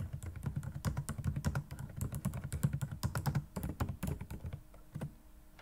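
Rapid typing on a computer keyboard while making a mind map in the Xmind program, a dense run of close, crisp key clicks with short pauses, no voices.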